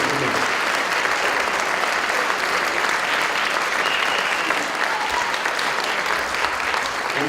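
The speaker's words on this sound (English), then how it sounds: "Now, ladies and gentlemen, a big round of applause for our" Audience at a 2017 candidate forum breaking into sustained applause, a dense, even wash of clapping that holds steady throughout.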